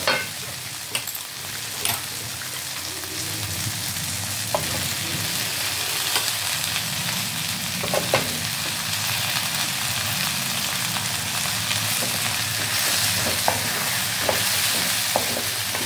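Brinjal and turkey berries fry and get stirred in a pan with softened onion and tomato for a kara kulambu, a steady close sizzle with occasional scraping clicks of the spoon throughout.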